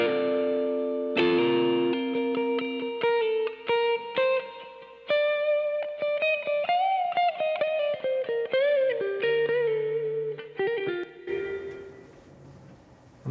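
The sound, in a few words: lead guitar track with reverb in a mix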